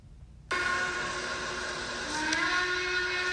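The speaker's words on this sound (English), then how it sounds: "he uses Norfolk and Western 1218's hooter whistle, which sounds like this." The hooter whistle of steam locomotive Norfolk and Western 1218 starts abruptly and blows one long, steady, chord-like blast that holds loud to the end.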